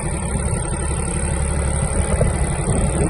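A Mitsubishi GS-250 Japanese mini tractor engine idles steadily while warming up, a close, even low rumble that runs unbroken with no voices over it.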